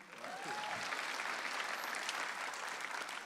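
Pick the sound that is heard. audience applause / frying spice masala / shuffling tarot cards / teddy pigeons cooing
audience applause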